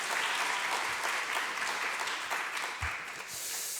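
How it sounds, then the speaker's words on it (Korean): A church congregation applauds for the new family ministry during a festival worship service, with steady, dense clapping filling the room throughout. "앞으로 새가족부 계속 잘 되시도록 박수합시다"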